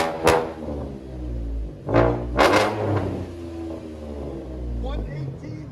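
A 2015 Chevy Camaro V6 with dual exhaust and Vibrant bottle resonators revs up in sharp bursts, three loud rising blips over a deep rumbling idle, close by, with people talking over it.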